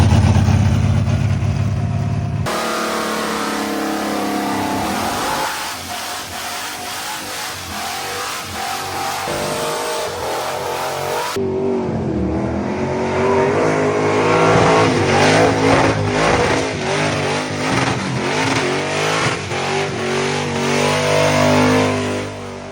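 Pontiac Firebird engine revving hard while drifting, loud and continuous with rising and falling surges and rapid rev pulses, heard close throughout with no talk.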